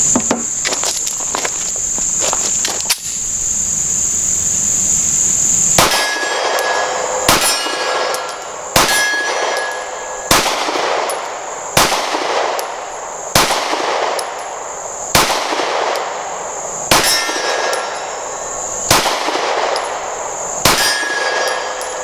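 Springfield Armory Hellcat compact pistol fired at a target, about nine sharp, loud shots spaced roughly every one and a half seconds, each with a metallic ring, after a stretch of quieter range noise.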